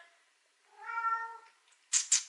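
A house cat gives one clear, close meow, followed by two short sharp rustles or taps, in an otherwise quiet room.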